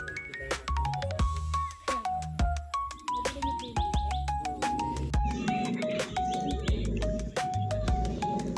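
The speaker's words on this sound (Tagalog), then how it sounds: "mapapakinggan ng mga huni ng ibon" Birds chirp and tweet repeatedly, several bright calls overlapping against a soft background hum, fairly close and clear.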